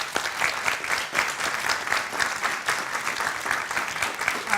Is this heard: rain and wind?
no